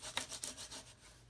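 Bone folder rubbing down paper on cardstock for a stamped card: a short run of soft, close, brushy rasping strokes, about five or six quick passes at a quiet level, with no talking.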